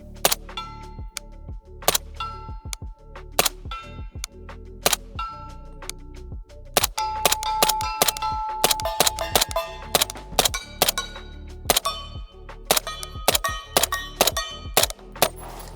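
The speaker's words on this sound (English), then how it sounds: "We're gonna take the first few shots just shooting into dirt so you can hear it." Sharp shots from a 300 Blackout rifle firing 220-grain subsonic rounds through a 5.5 inch barrel with a SIG Sauer Hexium 300 suppressor, many spaced cracks with metallic clangs from steel targets, no voices.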